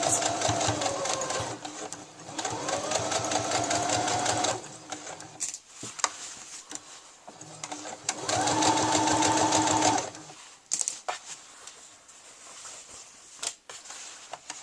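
A sewing machine stitches lining to the front and back bodice of a garment in two sustained bursts of rapid mechanical whirring, separated by pauses filled with quiet handling and fabric rustling.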